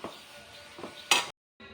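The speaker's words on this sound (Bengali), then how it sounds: "এখন ঢেকে দেব।" A lid is set onto a cooking pan of cauliflower curry seasoned with turmeric and cumin, a few soft stirring scrapes leading to one sharp metallic clank, then a brief silence and a low sizzle.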